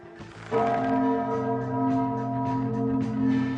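Chime bells ring out in a sustained, resonant peal that starts abruptly after a brief pause and keeps sounding, with overlapping tones and a few fresh strikes later on.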